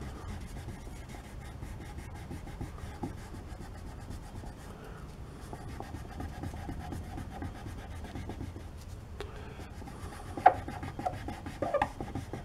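A scratch-remover compound is rubbed against paint scuffs in a steady, faint, continuous scrubbing, with a few brief sharper scrapes near the end.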